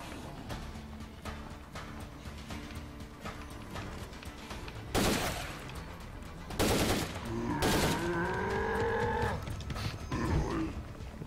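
State of Decay 2 gunfire cracks out in a few loud, sharp bursts over a busy background of game noise and rumbling.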